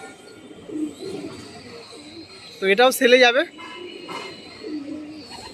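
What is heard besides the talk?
pigeons cooing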